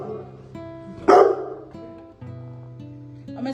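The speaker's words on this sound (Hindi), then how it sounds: "भौंको तुम, वीडियो बना रही हूँ मैं," A pet dog in a home kitchen gives a sharp bark amid whining, tonal whimpers, over a steady background hum.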